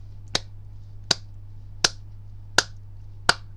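Five single hand claps in a slow, even rhythm, spaced under a second apart, each sharp and close with a steady low hum beneath, in the measured ceremonial style used in Laos to welcome a university rector.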